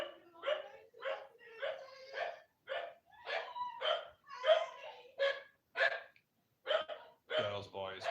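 A worked-up dog barks over and over indoors, about a dozen short, fairly quiet barks in a quick uneven rhythm with brief gaps.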